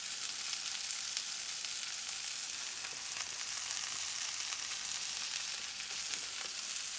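A smash burger patty fries on a hot griddle, giving a steady, dense sizzle and crackle that holds at an even level throughout, with faint pops scattered through it and no voices.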